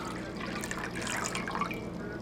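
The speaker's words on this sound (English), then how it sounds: "I'm going to go ahead and pour this pitcher of water in here" Water pours steadily from a pitcher into a blue plastic bucket for a homemade gold-recovery blue bowl, a continuous close splashing trickle with no talking.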